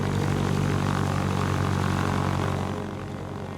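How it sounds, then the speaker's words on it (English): Lake Buccaneer amphibious seaplane, a vintage restored aircraft, droning steadily in flight with a loud, continuous propeller and engine roar that eases slightly toward the end. "This brings back the romance of flying seaplanes."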